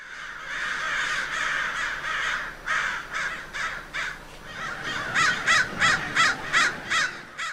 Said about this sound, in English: Crows make a caw, caw, caw, and that's their #1 call.